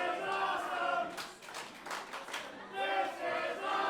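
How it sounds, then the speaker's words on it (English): Wrestling crowd cheering and clapping in approval at a three-way dance match, a dense roar of voices and applause at moderate distance, rising and falling. "And the crowd voicing their approval."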